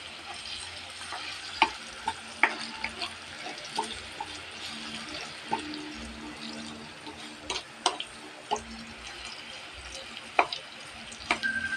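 Tocino frying in a pan while being stirred, a quiet bed of sizzle broken by irregular scraping and clinking stirs, fairly close and with no talk.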